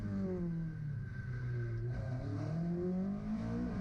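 From onboard a Darien rally car at Donington Park in tricky conditions, the engine drones loud and near, its pitch dipping and then climbing again as it revs through the corners.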